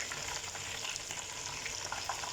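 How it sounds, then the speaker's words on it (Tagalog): Marinated chicken frying in a pan gives a steady, dense sizzle with small crackles and pops, fairly quiet and even throughout, and no voices. "I'm starting now frying for the chickens"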